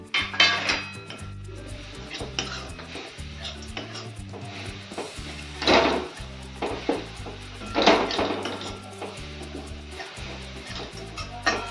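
Modak filling with sliced almonds and raisins being stirred in a pan, with repeated scraping and knocking of a spoon against the metal in uneven strokes, close and moderately loud.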